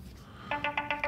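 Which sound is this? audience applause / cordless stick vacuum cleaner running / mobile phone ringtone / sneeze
mobile phone ringtone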